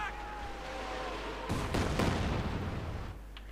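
Katyusha rocket artillery firing in the real-time strategy game Company of Heroes 2, a rumbling barrage of rapid overlapping launches and distant impacts that swells midway and then tapers under low ambient game noise.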